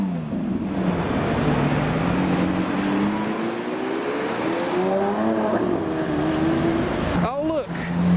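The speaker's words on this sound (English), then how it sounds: "There we go, a Lamborghini Aventador SVJ," A Lamborghini Aventador SVJ pulls away from traffic lights on a busy London street, its engine note climbing in rising revving sweeps over the traffic noise, with a voice briefly heard nearby.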